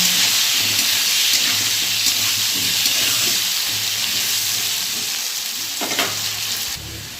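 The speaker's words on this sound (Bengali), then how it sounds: "চলো এবার আলুটা ভালো করে ভেজে নেব।" Potatoes frying with turmeric and salt in a pan for a dhokar recipe, a steady loud sizzle with faint stirring scrapes throughout.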